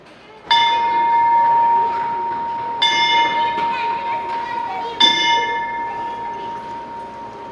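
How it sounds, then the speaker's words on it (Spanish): Old school bell at the Humberstone saltpeter works, struck three times by hand, each loud ringing strike decaying slowly into the next, with people talking softly nearby. "esta es la campana. La vamos a tocar"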